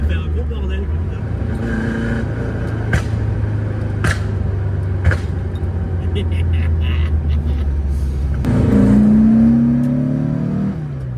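Volkswagen Beetle with a 2.2-litre engine and its exhaust valve open, rumbling loudly during a drive and rising into a revving surge near the end, with talk in the car over the engine.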